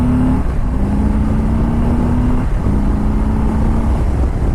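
Harley-Davidson Softail Slim motorcycle with a Milwaukee 8 engine accelerating hard out of a roundabout, a loud, steady engine note climbing in pitch through successive gears with a brief dip at each shift, close and continuous.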